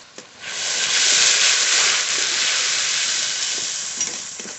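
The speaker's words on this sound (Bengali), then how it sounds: "মশলা তো খুব ভালো করে কষিয়ে নিয়েছি" Spice masala sautéing and being stirred in a pan, a steady broad sizzle and hiss that swells and holds for several seconds, with faint scraping of the stirring underneath and no talk.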